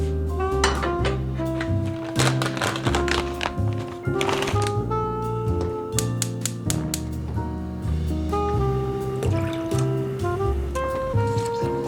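Water runs into a bowl to soak food, a trickling, splashing fill heard beneath steady tonal music-like sounds throughout.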